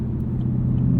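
A 6.2-liter V8 car exhaust hums with a steady low droning rumble from inside the cabin, even and fairly quiet over the brief stretch.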